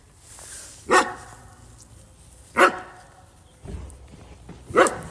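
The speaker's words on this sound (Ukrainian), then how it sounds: "Це хто гавкає?" A dog barks three times, short sharp barks spaced about two seconds apart, fairly close, with a quiet background between them.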